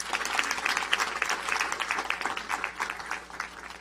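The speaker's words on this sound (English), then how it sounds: "Let's give her a round of applause." Audience applause at a county council session, a room full of hands clapping in a dense, lively patter that swells and fades slightly before thinning toward the end.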